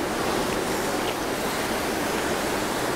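A long waterfall in Shiretoko, Japan, roars as a loud, continuous rush of falling water, dense and steady throughout with no voices.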